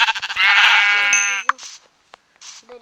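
A sheep bleats in the Minecraft video game: one loud, drawn-out bleat comes first, then brief soft game sounds and a few fainter clicks, with no talking.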